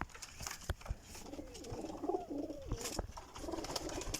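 Pigeons, including a female, cooing in a loft, a few soft rolling coos rising and falling over a faint background, close by with no talk.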